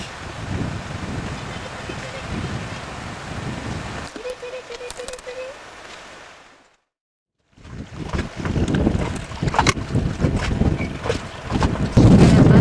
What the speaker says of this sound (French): Il y a beaucoup de vent aujourd'hui.